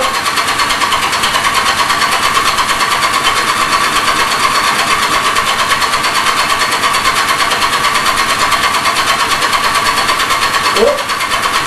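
A small engine in a workshop runs steadily with a dense, buzzing mid-pitched drone after being started with the choke on, loud and continuous, with a brief rising whine near the end and voices faintly underneath.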